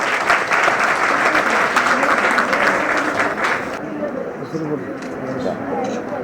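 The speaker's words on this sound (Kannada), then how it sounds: "ಜೋರಾಗಿ ಚಪ್ಪಾಳೆ ತಟ್ಟಿ ಇನ್ನೊಮ್ಮೆ." Loud audience applause fills a World AIDS Day programme in an old district panchayat hall, steady dense clapping that thins and softens partway through while scattered voices murmur underneath.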